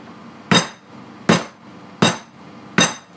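Four sharp, evenly spaced blows from a hammer flattening chicken breasts for schnitzel, each a loud close-up thud with a bright clink on top and a short decay.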